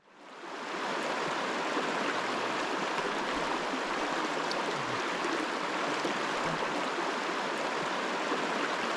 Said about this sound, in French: il y a une belle rivière qui nous attend